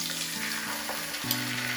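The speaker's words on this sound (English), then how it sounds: "right away I'm going to toss it in the pan." Salmon seasoned with garlic salt sizzles loudly and steadily in a hot pan, a dense continuous frying hiss with no voices.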